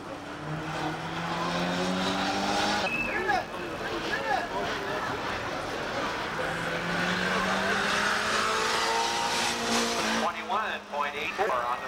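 Race cars lapping an oval at Saugus Speedway on a summer night, an 85 Lotus among them, engines droning loud and continuous as pitch-shifting passes sweep by, with a track announcer talking over the roar.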